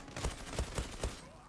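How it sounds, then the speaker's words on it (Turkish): Pistol gunfire in the online shooter Zula: four sharp shots in an uneven rhythm over about a second, close and moderately loud, over a steady game background. "Arada bir tabanca da kullanalım."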